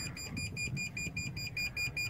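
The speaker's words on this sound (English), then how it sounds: "it will activate the buzzer and we can start pointing to where we think the satellite is" A high electronic pointing buzzer on a Hughes 9202 BGAN satellite terminal beeps in a fast, regular pulse, repeating about ten times evenly, fairly close and clear over a low background hum.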